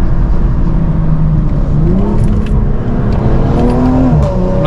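A rally car engine accelerates hard on a road stage, loud and close from inside, its pitch rising through gears with a shift and climbing again under a constant rumble.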